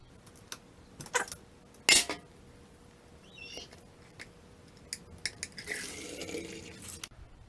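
Water drains out of a Yamaha Blaster engine crankcase in uneven splashes and trickles, with a few sharp metallic clinks and drips scattered through a quiet stretch, close by, with no talk.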